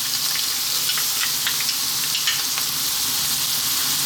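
Chili and garlic fry in sunflower oil in a wok, a steady bright sizzle holding the whole stretch with faint ticks and crackles scattered through it, close and unbroken.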